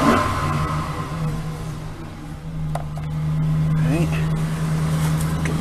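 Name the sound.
2009 Chevrolet Silverado 4.8 liter V8 cold start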